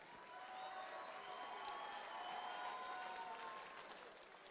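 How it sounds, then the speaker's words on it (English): Crowd applause for two fighters at a Chosen Few Fighting Championship bout, a steady wash of clapping and cheering held at a distant, even level throughout. "ladies and gentlemen, a big round of applause for these two fighters"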